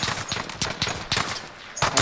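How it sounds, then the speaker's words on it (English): Rapid pistol shots in a video game, a quick run of sharp close cracks repeating every fraction of a second, loud and dense against a busy game background. "I have the worst pistol ever"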